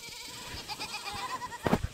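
Goats on a farm bleat as they run up toward a person, several wavering, nasal calls overlapping at close range and growing louder at the end.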